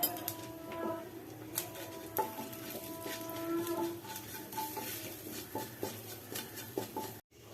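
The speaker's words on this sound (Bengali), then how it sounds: "গোটা জিরে একটু হিং দিয়ে দিলাম একটু ফোড়ন এটা করে নেবো" Whole cumin seeds and a pinch of asafoetida tempering in hot oil for an okra, potato and chickpea dish, with a soft steady sizzle broken by occasional utensil clinks and stirring scrapes, no talking.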